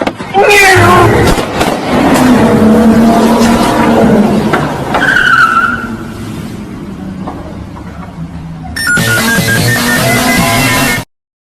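A car skids with loud, wavering tire squeals, its engine roaring close and harsh, ending in a burst of broadband noise before cutting to silence.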